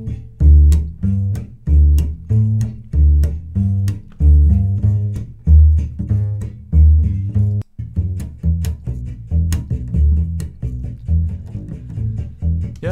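Double bass played in a steady rhythmic pattern of plucked notes, captured by a stereo pair of pencil condenser mics, warm and full-bodied with distinct attacks recurring every second or so, close and clear.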